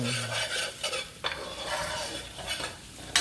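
Garlic and onions fry in oil for a seafood scampi, a close, steady sizzle with stirring scrapes and a few utensil clinks against the pan.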